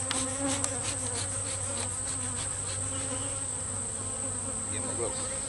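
Dense, steady buzzing from many honeybees around a hive, continuous and fairly close, with no talking.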